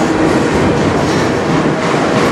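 A CN freight train of mixed cars rolls steadily past close by in Sarnia, Ontario, a loud continuous rumble of wheels and cars with faint clickety-clack and no voices.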